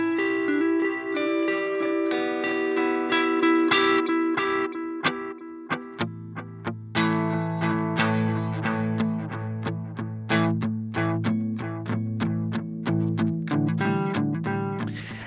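Electric guitar played through a Strymon Brig analog delay pedal, plucked notes and chords each trailed by rounded, fading repeats that smear into a continuous echoing wash, loud and alone.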